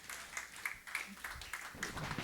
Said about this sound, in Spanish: Dale palmas al Señor, dale palmas,